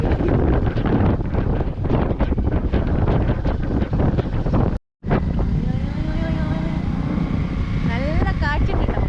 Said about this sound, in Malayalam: നല്ല കാറ്റുണ്ടോ? ഹെവി കാറ്റാണ്.